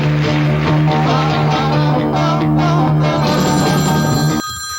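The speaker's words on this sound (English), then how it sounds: "A phone is ringing at the news of the world." An old-fashioned telephone bell rings continuously in a 1960s newsroom, a loud, bright metallic trill sustained without pause for several seconds before stopping suddenly.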